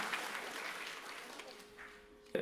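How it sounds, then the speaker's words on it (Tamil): Audience applause at a Bharatanatyam arangetram dance recital, a crowd clapping steadily in a hall and then thinning out over a couple of seconds. "இங்கே மீண்டும் நீங்கள் அவருக்கு அரங்கு நிறைந்த பாராட்டு கைதட்டலை கொடுத்து விடலாம்."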